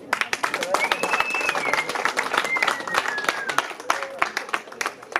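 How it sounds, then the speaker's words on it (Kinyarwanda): Audience clapping breaks out at a gathering, brisk and fairly close, with a voice talking over the applause throughout and a few high whistling tones rising above it. "Nimumera amashyi."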